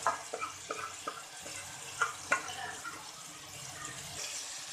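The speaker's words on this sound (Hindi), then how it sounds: "अब हमने जो दाल उबाली थी वो हम डाल देंगे इसमें" Boiled dal for dal mash is poured into fried masala in a pan, giving faint liquid splashes, a few soft plops and a light sizzle, all quiet and without speech.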